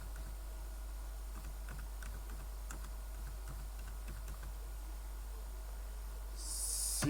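Faint, irregular clicking of keys on a computer keyboard on an Asus PC, light taps spread over a low steady hum with a hiss rising near the end.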